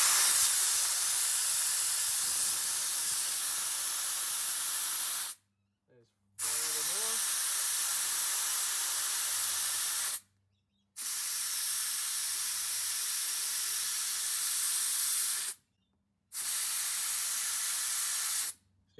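Air hisses loudly out of a 235/80/16 tyre through a Mean Mother tyre deflator as pressure drops from 35 to about 20 psi, in four long steady bursts separated by brief silences, with a faint voice briefly in one gap.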